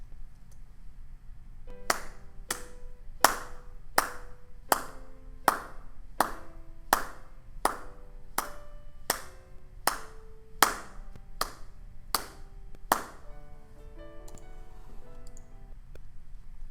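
Steady hand taps keep the beat, about sixteen crisp knocks at an even pace, over two sustained tones sounding together as half and quarter notes.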